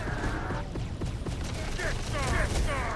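Gunfire in the Terminator: Dark Fate - Defiance video game, a dense fusillade of sharp shots and distant booms forming a busy battle din, with voices talking over the shooting.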